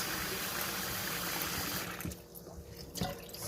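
Water runs and splashes over white rice being rinsed in a bowl, a soft continuous pour that breaks into brief sloshing and trickling toward the end.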